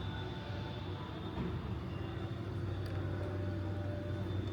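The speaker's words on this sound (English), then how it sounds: "Oh, that's my car. You can hear it." A car engine running at an outdoor car meet, a steady low rumbling idle that holds at an even level throughout, alone with no talk.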